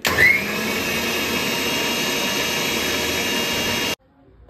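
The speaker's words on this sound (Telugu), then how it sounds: "యాడ్ చేసుకున్నవన్నిటిని మళ్ళీ మిక్సీ పట్టుకోవాలి." Mixer grinder blending chili powder with ginger garlic paste for a bitter gourd garlic masala, a loud steady whirring motor roar for about four seconds that stops abruptly into near silence.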